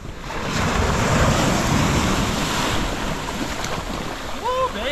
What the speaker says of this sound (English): Big wave.